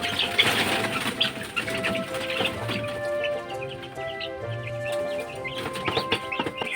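Native chickens clucking and cackling in a backyard, a steady mix of hen calls with some wing flapping and other birds around.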